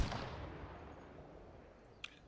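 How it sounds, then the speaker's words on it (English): A single gunshot in Call of Duty Warzone: a sharp report at the very start that decays into a faint, rumbling tail, followed by a quiet, distant click. "That shot did kill him."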